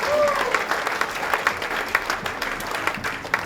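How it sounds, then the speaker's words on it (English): A congregation claps for a brother at a church gathering, dense applause with scattered sharper claps that slowly thins, and some voices mixed in beneath. "Can we give the brother a clap of?"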